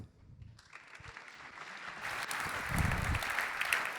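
Applause at a tech conference swells from quiet to a full, steady clapping from a seated audience, building over a few seconds and holding at a moderate distance.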